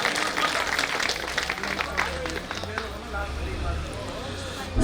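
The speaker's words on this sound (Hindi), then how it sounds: "कृपया इनका तालियों से स्वागत किया जाए।" Audience applause welcoming a guest at a foundation-stone ceremony for a dharamshala in Haridwar: a moderate, fairly distant wash of clapping that holds steady throughout, with faint voices beneath it.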